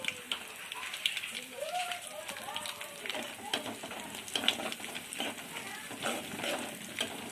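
Cumin and mustard seeds with turmeric powder sizzle and crackle steadily in hot oil in a pan, with continuous frying hiss and stirring noises throughout while a person talks over it.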